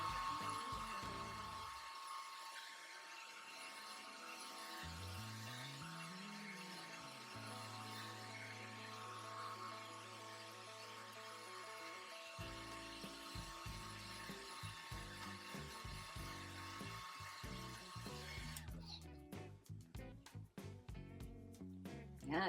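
A hair dryer blows steadily on watercolor paint on a canvas surface, a faint continuous whir whose pitch shifts now and then, ending in a burst of rougher clattering handling noise.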